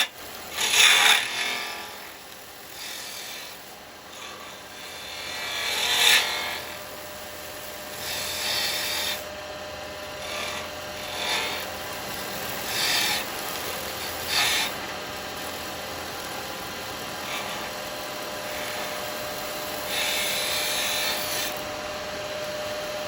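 Carbide chisel cutting a resin Christmas bell on a woodturning lathe, a steady rasping scrape with repeated louder bursts as the tool bites, continuous and fairly close.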